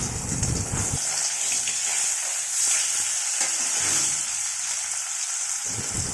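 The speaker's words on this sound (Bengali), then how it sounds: "তো আমি ছেলের একটা কই মাছ বসিয়ে দিয়েছি অল্পই তেল দিয়েছি" Koi fish frying in a small amount of oil in a pan, giving a steady close hiss of sizzling that runs unbroken and stays fairly even in level, with a quieter dip in the middle.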